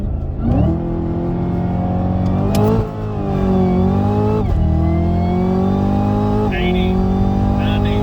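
A 2018 Chevrolet Camaro ZL1 accelerates flat out with traction control off, its engine roaring and climbing in pitch through several quick gear shifts, loud and close from inside the cabin.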